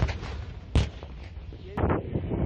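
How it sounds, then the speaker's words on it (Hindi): Artillery fires toward the Gaza Strip from a front-line area, two heavy booming blasts with rumbling tails heard outdoors over wind buffeting the microphone. "ये सामने से देखिए ये फायरिंग हो रही है, ये गजा पट्टी की तरफ जो है वो फायरिंग हो रही है।"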